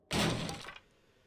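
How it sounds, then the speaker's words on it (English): A glass jar is broken open in the video game 7 Days To Die: one sharp, loud crack and shatter that fades within about half a second, alone with no talk. "Take the glass jar. Let's pop this open."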